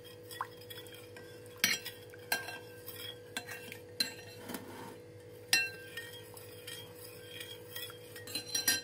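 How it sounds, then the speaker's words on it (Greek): A spoon stirring jelly powder into hot water in a home kitchen, with repeated light clinks and scraping against the container, soft and close, with a few sharper taps. "Έριξα το ζεστό νερό, ανακατεύω καλά για να λιώσει τελείως."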